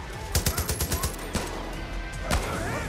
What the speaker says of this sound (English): Who is shooting me? How dare they shoot me?